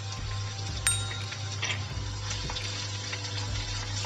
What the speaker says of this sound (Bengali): এখন এই পেঁয়াজটা তেলের সাথে নেড়ে কিছুটা নরম করে নিব